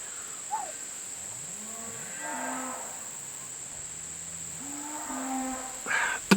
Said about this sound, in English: What are them cows doing over there, Rufus?